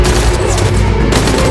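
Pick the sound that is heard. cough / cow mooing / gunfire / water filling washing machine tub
gunfire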